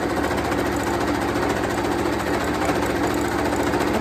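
A sewing machine stitches tulle and ribbon for infant ruffle socks, running close and loud in a fast, unbroken mechanical chatter for the whole stretch, with no voice over it.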